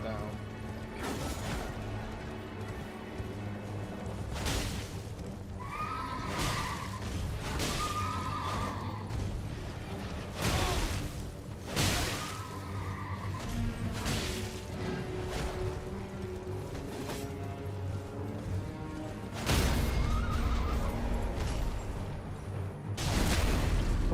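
A summoned horse whinnies repeatedly in Elden Ring combat, its neighs rising over clashing impacts, footfalls and voices talking throughout.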